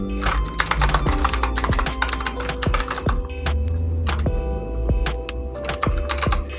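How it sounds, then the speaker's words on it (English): Typing on a computer keyboard during interface design work, with quick, uneven runs of close key clicks, some heavier single strokes, and brief pauses between bursts. "Now we can continue to type."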